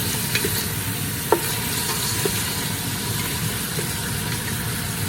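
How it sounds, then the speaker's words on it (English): Vegetables sautéing in a pan for a beef stew give a dense, steady sizzle with a brief clink near the start, close and fairly loud, with no speech. "Saute them a little bit."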